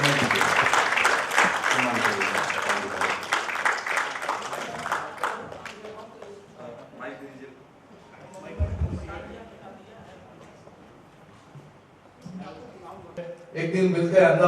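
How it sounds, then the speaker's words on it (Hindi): An audience at a Hindi literary festival event breaks into loud, dense applause that gradually fades, with speech and crowd murmur following, then clapping rising again at the end. "एक बार जोरदार ताली से एक बार फिर से स्वागत कीजिए"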